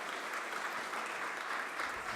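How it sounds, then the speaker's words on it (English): Crowd at a mayor's City Hall event applauds in a steady, dense wash of clapping that holds evenly for a couple of seconds, moderately distant with no voices on top. "let's give a round of applause for everyone and to Toyota for sponsoring today"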